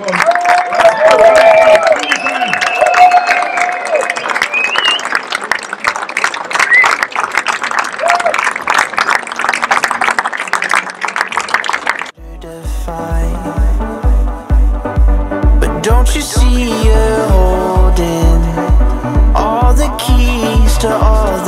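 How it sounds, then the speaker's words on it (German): Crowd applause and cheering at a charity run, a dense roar of clapping with shouts that cuts off abruptly, followed by loud rhythmic music with a pounding beat and a voice over it. "Das ist euer Beifall,"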